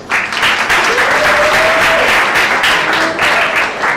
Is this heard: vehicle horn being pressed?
no